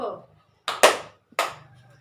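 Hand claps in a classroom counting game: a few sharp, close claps in quick succession, a short pause, then a single clap, with a brief voice just before them.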